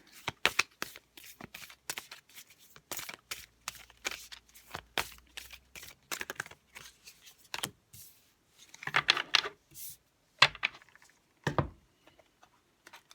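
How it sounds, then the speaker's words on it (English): Oracle cards for a tarot reading being handled, shuffled and pulled, with a quick irregular series of crisp card flicks and rustles close by, a few louder snaps near the end, and no talking. "we're just going to move these over and pull 3 oracle cards to end the reading."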